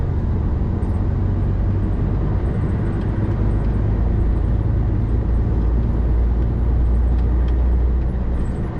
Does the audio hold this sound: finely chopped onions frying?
no